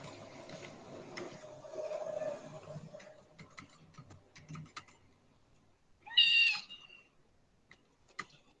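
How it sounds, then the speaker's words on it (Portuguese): A cat on a table gives one clear, fairly loud meow, with scattered light keyboard taps and faint room noise before and after. "o gatinho tá aqui em cima da mesa agora"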